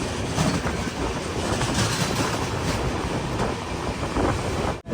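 An express train runs through Amla Junction in Madhya Pradesh without stopping, a loud, close, continuous roar and rattle that fills the whole stretch before cutting off abruptly.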